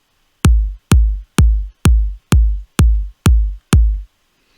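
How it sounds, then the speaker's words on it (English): Eight punchy, deep progressive house kick drum hits land at a steady, even pace, each with a booming low tail, alone with no other sounds. "So at the top here we have the drop kick,"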